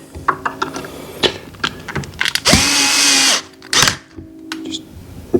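A Ryobi cordless power drill drives bolts tight on a pond pump under repair: scattered clicks and handling knocks, then a loud, close whir of about a second, followed by a short second burst.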